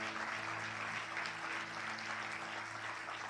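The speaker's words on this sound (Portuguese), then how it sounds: "Pode dar uma aplauso." A church audience applauds after a preacher's remark, a faint, steady wash of clapping continuing evenly throughout.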